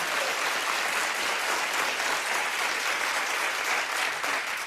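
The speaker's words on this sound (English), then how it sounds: "clap if you're with me" Studio audience at a daytime TV talk show breaking into sustained applause, a dense, steady wash of clapping hands filling the room for several seconds with no voices on top.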